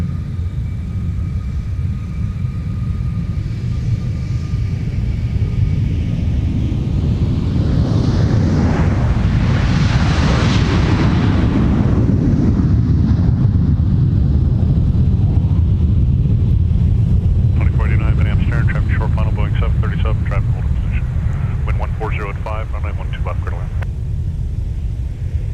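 A Delta airliner takes off at Minneapolis–St Paul airport. Its broad engine roar swells to a loud peak and then slowly fades into a steady rumble, with faint radio voices near the end.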